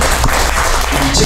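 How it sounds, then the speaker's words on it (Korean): An audience at a small-business revitalization workshop in Jeollabuk-do, South Korea, claps for the panelists, a dense, close, continuous patter of hands, with some voices mixed in. "지금까지 수고해주신 네 분의 패널 분들에게 다시 한번 뜨거운 박수로 감사의 표시를 해주시면 고맙겠습니다"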